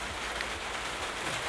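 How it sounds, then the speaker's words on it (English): Rain falls steadily outside a greenhouse, an even, dense hiss of drops on the surfaces with no breaks or voices. "it's raining out right now, so I'm sitting in the greenhouse"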